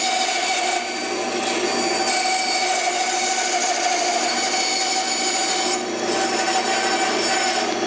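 A wooden dragster body is rough cut by a power saw, a loud continuous buzzing cut with brief dips in pitch and strain as the blade works through the wood.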